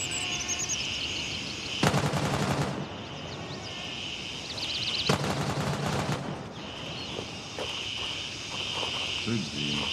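Gunfire in the video game Crimson Shield, two long bursts of rapid automatic shots a few seconds apart, loud and harsh, over a steady buzz of crickets and other insects, with a voice talking between the bursts.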